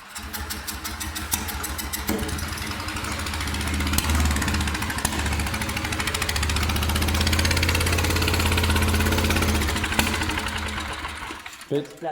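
A small engine cranks and catches, then runs in a steady, rattling idle with rapid ticking, rising slightly before cutting out near the end.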